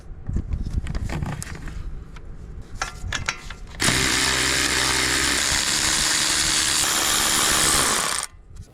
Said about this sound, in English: Remove the nuts for the manifold.